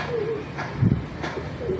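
Big breeder pigeons cooing in a loft, a few soft low coos rising briefly over a steady background hum.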